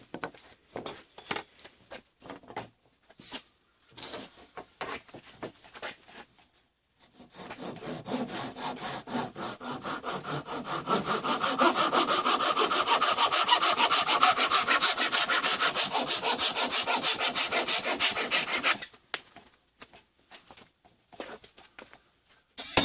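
A hand saw cuts through tulip poplar wood, with scattered scrapes and taps before steady back-and-forth strokes that grow louder and denser, then stop abruptly.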